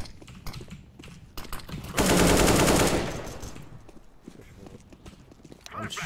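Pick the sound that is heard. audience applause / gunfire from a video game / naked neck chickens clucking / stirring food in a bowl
gunfire from a video game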